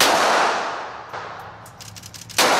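A pistol fires at a shooting range at about 5–6 metres, one sharp loud crack that fades away, followed later by another abrupt report near the end.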